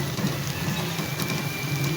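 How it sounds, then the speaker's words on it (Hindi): Onions fry in hot ghee in a kadai wok, giving a dense, steady crackling sizzle like light rain, close and even throughout, with no voices. "कढ़ाई में घी डाल दिया। अब इसमें प्याज डालेंगे।"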